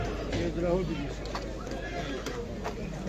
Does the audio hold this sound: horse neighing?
yes